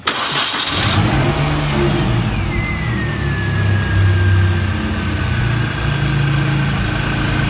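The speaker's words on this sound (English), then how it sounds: "now the engine's running perfectly fine" A MINI car engine, just given a tune-up, cranks and fires right at the start, then settles into a smooth, steady run with a faint whine. It stays close and prominent, with no one talking.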